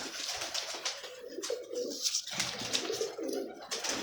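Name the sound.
pigeons cooing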